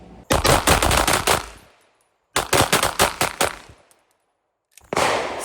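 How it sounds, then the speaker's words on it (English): Staccato XC and Girsan Match X pistols fired in fast strings of rapid shots, two quick bursts of about seven sharp reports each followed by a third burst starting, loud and close with no talk. "I got to shoot within a time limit. I got to shoot accurate. I got to shoot fast"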